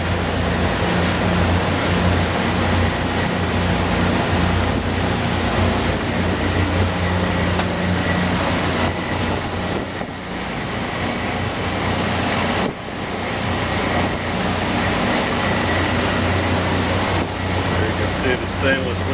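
A 2002 Sea Ray 320 Sundancer cruises at about 18 knots and 3,400 RPM, its engines giving a loud, steady roar mixed with rushing water and wind noise that stays constant throughout.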